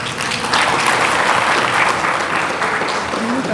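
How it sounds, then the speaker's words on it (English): Conference audience applauding steadily, a dense wash of clapping hands filling the room at full volume from start to finish, with a faint voice near the end. "can we have a huge and a zestful round of applause, everyone?"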